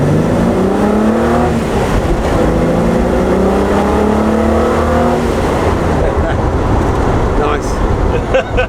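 A Reliant car's engine is revved hard at full power, its pitch climbing steadily over several seconds before easing off, heard loud from inside the cabin with some talk.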